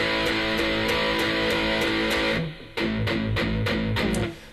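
Ringing, open electric guitar chords sustain and blur together, then a brief gap before more bright strummed chords ring out loud and close.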